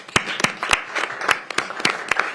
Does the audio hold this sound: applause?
yes